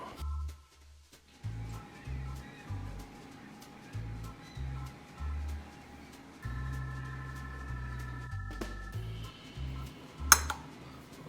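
Plates and cutlery clink and knock in a home kitchen as a stuffed chicken breast dinner with sautéed Brussels sprouts is plated, with a low steady hum underneath and a sharp metallic tap near the end.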